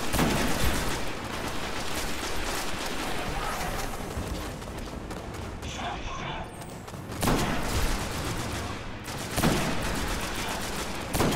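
Sustained gunfire pounds against an energy shield in Destiny, a dense, harsh stream of rapid shots with sharper bursts breaking through near the end, loud and close against constant battle noise.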